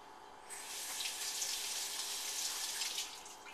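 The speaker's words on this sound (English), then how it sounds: "I'm going to run cold water on." Cold tap water runs steadily over a handful of salted black beans held under a faucet, a continuous broad hiss of splashing water that starts abruptly and holds at moderate level throughout.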